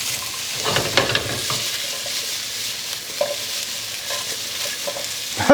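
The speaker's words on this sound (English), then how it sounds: "All right, stir, stir, stir." A spoon stirs caldereta with carrots in a pot, making moderate scraping and shuffling strokes over a soft sizzle, close by and irregular, with no one talking.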